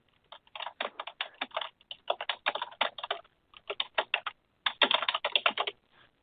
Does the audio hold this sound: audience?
no